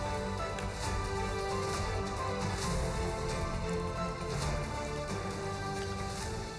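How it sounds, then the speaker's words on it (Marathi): Heavy unseasonal rain with hail in Nandurbar's Shani Mandal, a dense continuous roar of rainfall hitting surfaces, loud and steady throughout with no voices. "नंदुरबारमधल्या शनी मांडळमध्ये जोरदार पाऊस बरसलेला आहे"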